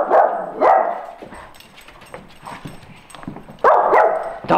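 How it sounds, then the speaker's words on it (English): A dog barks and yips loudly nearby, two sharp barks at the start and a cluster near the end, with quieter whimpering noises in between and no talk. "Dog, stop it!"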